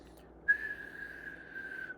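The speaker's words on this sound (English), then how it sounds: "I'm not whistling well." A person whistles one long, steady, fairly faint note that holds for about a second and a half before trailing off.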